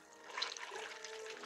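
Water splashes and trickles steadily in an animated show, a soft, continuous liquid wash with no speech over it.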